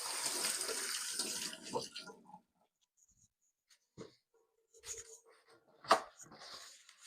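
Onions being washed under a running tap, a steady splash of water that stops after about two seconds, followed by a few faint knocks and a brief spurt of water.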